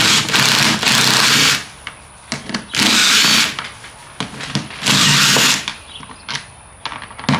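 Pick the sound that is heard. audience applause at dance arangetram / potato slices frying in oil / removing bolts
removing bolts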